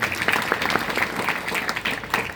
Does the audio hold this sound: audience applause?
yes